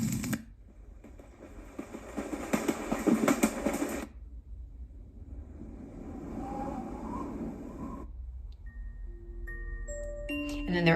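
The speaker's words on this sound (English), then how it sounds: "Warm crackling fire." Crackling fire setting on a white noise machine, a dense burst of pops and crackles for a few seconds, then a softer crackling bed, ending in a short run of electronic chime tones.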